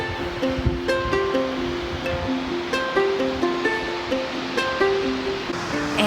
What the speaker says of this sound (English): Anywhere you go, you'll hear the sound of water rushing down the rocks.